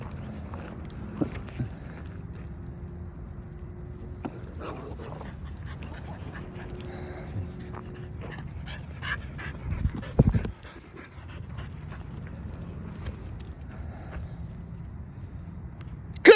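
Heeler dogs pant quietly outdoors during a frisbee session, with soft rhythmic breaths, faint whimpers and scattered small noises, plus a brief louder rustle near the middle.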